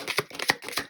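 Tarot cards being shuffled by hand to draw one final card, a quick series of soft papery riffles and flicks in a steady rhythm, close and moderately quiet with no talking.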